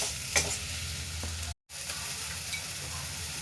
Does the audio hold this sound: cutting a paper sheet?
no